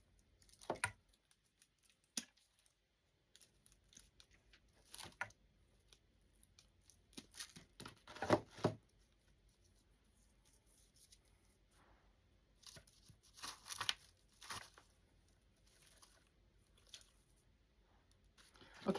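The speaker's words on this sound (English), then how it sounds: "Cut up some more of this flocking." Scissors snip through artificial flocking for a snowman sleigh craft, scattered crisp cuts and rustling bursts coming close in irregular clusters with quiet gaps between them.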